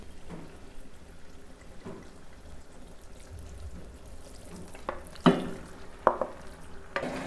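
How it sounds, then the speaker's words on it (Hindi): Boiled fenugreek leaves and softened potatoes stirred and fried in a pan over high flame for aloo methi, with a low sizzle and scraping stirs that rise into a few louder knocks near the end. "मेथी को मैंने अच्छी तरह से मिक्स कर लिया हाई फ्लेम पे"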